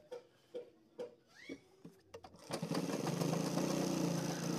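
A sewing machine starts stitching along a pant belt edge after a few soft knocks and handling sounds, then runs in a steady, fairly loud whir to the end.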